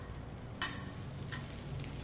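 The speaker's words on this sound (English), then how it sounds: "hear that butter sizzle for a minute as it cooks off the water in the butter" Butter sizzling in a hot silver-colored carbon steel pan, a faint, steady crackling fry with a couple of brief louder spits.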